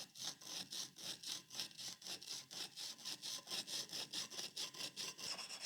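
A chisel is worked back and forth on a wet sharpening stone, giving a rhythmic, rough scraping stroke repeated about four times a second, close and fairly quiet with no talking.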